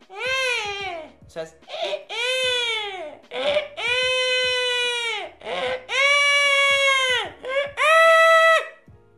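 A beatboxer imitates a baby crying with the voice, producing a series of wailing, rising-and-falling cries in short bursts separated by sharp inhaled breaths, loud and close with no other sound.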